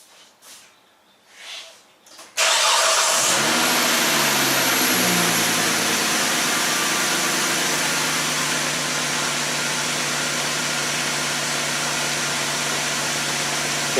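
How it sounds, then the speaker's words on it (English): A car engine starts with a sudden loud burst and then runs steadily at idle, a continuous close drone with a slightly uneven, rough pulsing suggesting cylinder misfires. "So I'm going to start the car again. I'm going to now make some misfires and see if you did this right or not."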